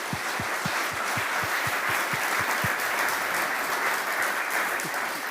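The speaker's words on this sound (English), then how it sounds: "can we please give a big round of applause for Sebastian as he comes to the stage?" A TEDx Twente 2025 audience applauds as a speaker walks onto the stage, a warm, continuous patter of many hands that stays even and moderately loud for several seconds.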